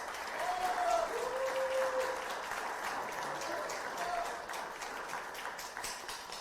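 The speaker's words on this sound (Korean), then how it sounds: "큰 박수 한번 부탁드립니다" A crowd at a People Power Party youth and university student rally in Busan applauds in steady, sustained clapping that fills the space evenly from start to finish.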